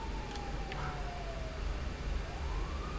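An emergency vehicle siren in a video game, faint and distant as a thin wailing tone under a constant loud rumble of engine and road noise.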